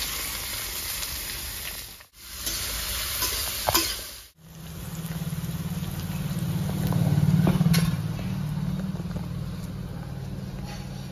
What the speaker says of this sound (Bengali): গোটা জিরে, দারচিনি, লবঙ্গ, ছোটো এলাচ একসঙ্গে দিয়ে দেবো। দিয়ে দেবো কেটে রাখা পেঁয়াজ।